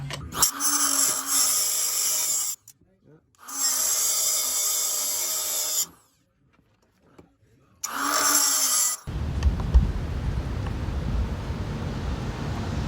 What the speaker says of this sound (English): right now I'm about to use my Chicago Electric 3-inch saw cutter